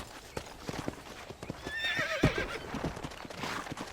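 A video game horse's hooves clip-clop rapidly as it gallops, with a loud whinnying neigh in the middle, close by.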